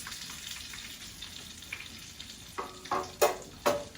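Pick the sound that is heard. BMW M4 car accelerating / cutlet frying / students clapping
cutlet frying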